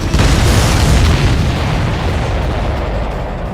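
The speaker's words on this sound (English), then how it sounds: "That's a confirmed direct hit by the missile." A missile striking its target explodes in the combat flight game Ace Combat 7: Skies Unknown, a loud, deep boom that hits at once and then rumbles away into a long fading roar, with no talk.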